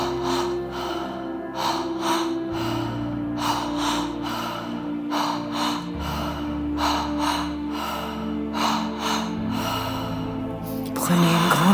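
Deep breathwork breaths come in slow cycles, each a long audible inhale and forceful exhale, close and clear, with soft ambient music beneath and no speech.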